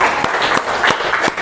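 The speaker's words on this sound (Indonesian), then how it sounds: "Beri tepuk tangan untuk Ratna" A classroom of students claps for a classmate named Ratna, a short burst of quick, loud, uneven hand claps close by.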